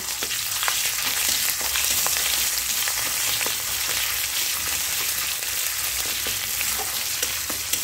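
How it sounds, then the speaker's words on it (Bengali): Steady, loud sizzle of ginger paste frying in hot oil, with scattered crackles and pops throughout and no talking. "আদাটা একটু ভাজা ভাজা করে নিচ্ছি"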